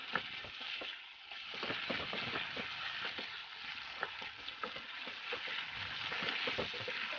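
Potatoes fry in a pan of chicken curry while being stirred, a steady close sizzle broken by frequent scraping and clicking of the spoon against the pan.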